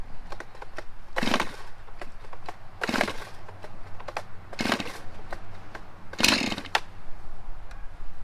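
A chainsaw is pull-started, giving four short, loud sputtering bursts spaced a couple of seconds apart as the engine briefly catches and dies, with quieter mechanical rustling between the attempts.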